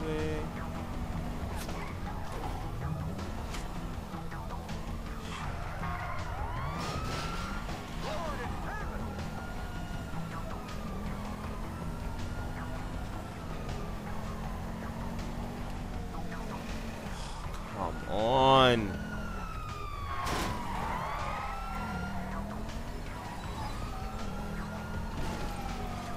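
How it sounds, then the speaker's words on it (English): Grand Theft Auto V police sirens wail and overlap in swooping rises and falls during a street chase, with a louder siren burst passing about two-thirds through and a dog barking faintly. "See the sirens?"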